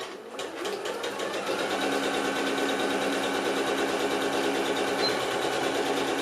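A sewing machine stitches fabric scraps 1 cm from the edge, starting after a brief moment and then running in a steady, fast mechanical hum and rattle, close and continuous with no talk.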